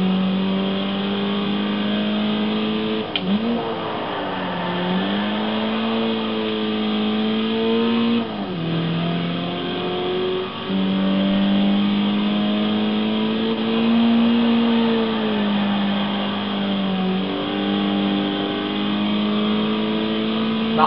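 A Nissan Silvia S15 Spec-R drifts with its engine revving loud and close, the pitch repeatedly climbing, dipping and surging again over a long run.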